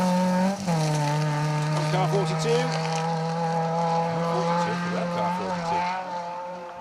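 A rally car on a stage holds a loud, steady engine drone after a sharp shift early on, with its pitch wavering slightly as it carries on and then fades toward the end, while people talk nearby.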